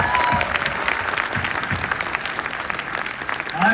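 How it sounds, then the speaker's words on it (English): A crowd of students in Bangladesh applauds their teachers, a sustained, loud wash of clapping filling the room with faint voices underneath. "for all of us to give a round of applause to all"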